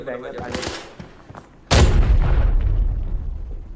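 A grenade explosion in the video game Arena Breakout lands as a sudden loud, close boom partway through, leaving a heavy rumbling tail after quieter muffled gunfire and game noise.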